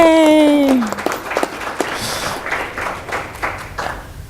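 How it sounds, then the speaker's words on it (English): A brief voice gives way to a short burst of scattered applause from a small group at a school board meeting after a motion carries, the clapping uneven and fading over a few seconds. "now you can clap"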